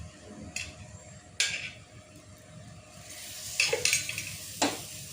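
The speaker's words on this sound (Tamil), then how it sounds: "இப்போ தவாவில் போட்டு 2 பக்கமும் நல்லா வேகட்டும்ட்டு திருப்பி விடலாம்" Roti flatbread cooks in oil on a tawa, giving a quiet, intermittent sizzle with a few sharp hissing flare-ups as it is turned.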